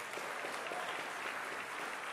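Church congregation applauding during a sermon, a soft, steady patter of many hands clapping at moderate distance, rather limp and unenthusiastic, with no voices over it.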